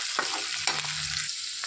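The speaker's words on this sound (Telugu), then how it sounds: "వేసి వేయించేసుకోవాలి." Onions, green chillies and curry leaves fry in a pan, a close, bright sizzle broken by a few sharp stirring scrapes of a spoon.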